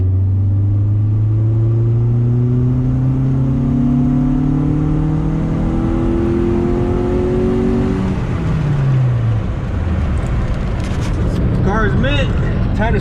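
Honda street car on low cam in a hard third-gear pull, engine droning steadily as the revs climb under wide-open throttle, then easing off, with voices talking near the end.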